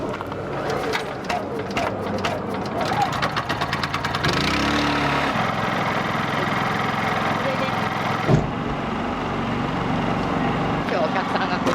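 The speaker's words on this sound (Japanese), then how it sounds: "エンジンかけます。" An engine cranks with rapid ticking, catches and settles into a steady medium-pitched idle, loud and close, after some voices, followed by a single sharp knock.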